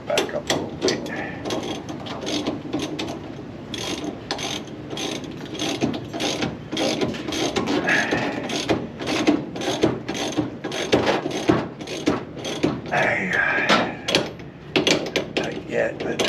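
Ratchet wrench tightening a bolt on a Chevrolet Nova, fast repeated clicking of the pawl in steady bursts, close and loud, with someone talking in between.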